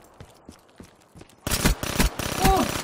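The Pharaoh rifle in Call of Duty: Black Ops 3 fires in quick, evenly spaced shots, faint and distant at first, then loud, sharp bursts close up, with a voice briefly cutting in at the end.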